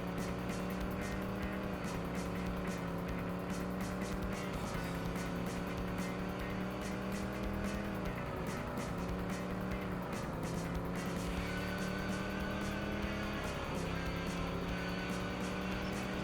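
Monster truck and car engines roar continuously in the TNN Motorsports Hardcore TR arcade racing game, Southern California course, a loud sustained drone of revving motors rising and falling as gears shift, with no talk.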